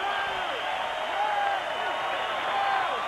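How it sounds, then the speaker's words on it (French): A boxing crowd cheering and applauding after a victory, a dense, continuous roar of voices and clapping that stays loud throughout, with an announcer's voice over it. "très belle victoire et écoutez la foule"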